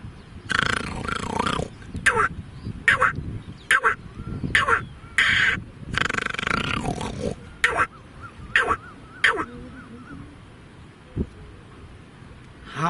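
A man imitates the cawing of a jungle crow with a run of deep, throaty, guttural caws of uneven length, close and loud, fading into quieter background sound near the end.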